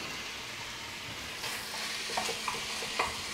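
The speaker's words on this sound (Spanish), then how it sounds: "vamos a dorar los trocitos de tocineta" Bacon pieces browning in a pan for a jambalaya-style rice dish, giving a steady low sizzle with a few soft stirring scrapes and light clicks near the end, no voices.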